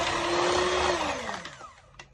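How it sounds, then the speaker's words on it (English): An electric mixer whisks egg whites for a Ghanaian rich cake, a loud, steady whirring drone close by that slows and drops in pitch toward the end. "continue whisking it till we have a very thick consistency"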